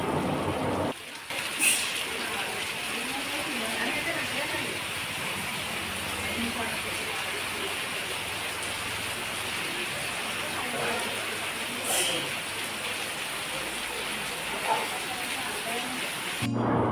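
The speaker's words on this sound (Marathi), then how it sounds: "थोड्या वेळ वाट बघूयात पाऊस थांबण्याची" Steady heavy rain pours down on a stormy day in the Konkan countryside near Marleshwar, a dense, continuous hiss throughout, broken by a few brief sharp cracks of thunder.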